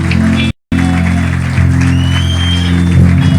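Congregation applause at a church service, continuous clapping with a sustained musical tone beneath, broken by a brief dropout near the start.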